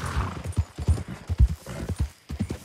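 Red Dead Redemption 2 horse hooves clop in an uneven rhythm in the stables, close and fairly soft, with a short whinny mixed in.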